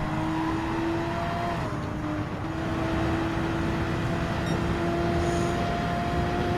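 A Gr.3 race car lapping the Autodrome Lago Maggiore circuit in Gran Turismo 7, its engine holding a steady, loud, continuous droning whine with slight pitch shifts throughout.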